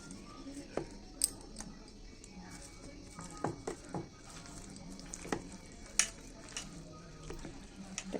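Mashed roasted eggplant with tomato and charred dried chili being kneaded by hand with mustard oil: close, quiet, irregular wet squelches and soft clicks scattered over a faint background hiss.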